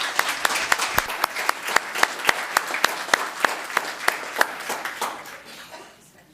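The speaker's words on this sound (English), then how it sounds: "let's have a round of applause for Isabella and Quincy" A round of applause breaks out at a town council meeting in Los Gatos for Isabella and Quincy, steady group clapping with a few sharper individual claps standing out, fading away over the last second.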